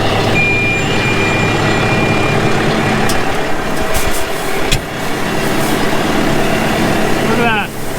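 A tractor engine runs steadily under auto steer while pulling a John Deere 3100 six-bottom moldboard plow in a farm field, a continuous loud drone with a brief mechanical clunk midway and a short whine near the end.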